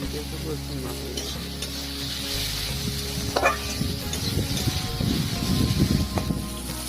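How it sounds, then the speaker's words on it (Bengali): Chopped onions and tomato with salt fry in a pan for a crab curry, giving a steady close sizzle with scraping spoon strokes that grow busier toward the end. "পেঁয়াজগুলো ফিফটি পার্সেন্ট মতো ভাজা হয়ে গেলে এতে টমেটো কুচি আর এর সাথে এক চামচ নুন দিয়ে ভালো করে মিশিয়ে নেব"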